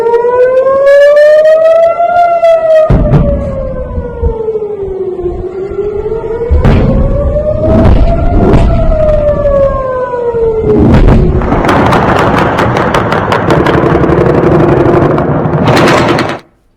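An air raid siren wails loudly, rising and falling in long sweeps, then a rapid burst of rocket launches or gunfire crackles over it before it cuts off; no speech.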